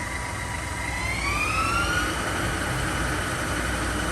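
A Milltronics ML-17 17-by-40-inch CNC lathe from 2001 spins its spindle up, a steady loud whine rising in pitch and holding high over a constant machine drone, with no talking.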